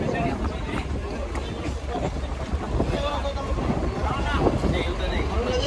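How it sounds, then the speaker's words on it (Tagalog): Strong habagat monsoon wind buffets the microphone in a continuous loud rush with heavy rain noise mixed in, while someone talks over it. "Lakas talaga yung habagat mga idol."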